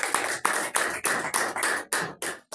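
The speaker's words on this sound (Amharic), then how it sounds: "አጨብጭቡ ለጌታ ነው።" Congregation clapping in praise during a church prayer service: about nine rhythmic bursts of hand claps, steady and fairly close, with no voices over them.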